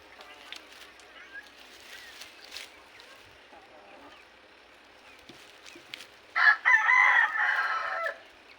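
A chicken on a rooftop crows in one loud, drawn-out call near the end, after a long stretch of faint clucks and rustling.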